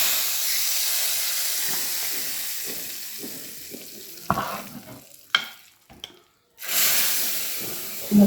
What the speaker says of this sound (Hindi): जी तो यहाँ पे दाल को लगेगा तड़का।